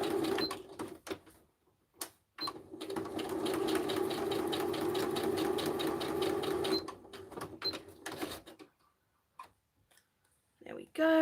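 A sewing machine stitches steadily for about four seconds during a scrap-crafting session, its rapid even clatter fairly close. Brief clicks and handling noises come before and after, with no voices.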